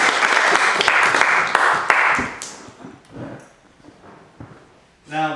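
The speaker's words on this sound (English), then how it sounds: "a round of applause" An indoor audience gives a round of applause, a full burst of clapping with a few sharp near claps that dies away after about two seconds as a voice begins talking.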